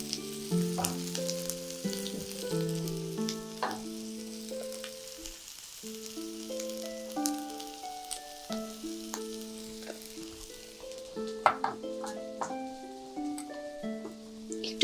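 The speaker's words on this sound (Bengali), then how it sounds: "কষিয়ে নিব।" Chicken mince sautés in a pan for lasagna, a soft, continuous sizzle with occasional stirring beneath steady background music.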